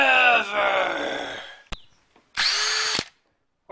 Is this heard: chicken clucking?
no